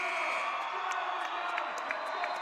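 A basketball crowd in a gym in Bethany gives a standing ovation for a career scoring record. The loud, sustained cheering is dense with scattered whoops and shouts rising above the roar.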